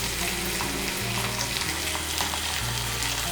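Garlic and ginger paste sizzles and fries steadily in hot oil for a Bengali okra and gram flour dish, a close, continuous crackle with no voices over it.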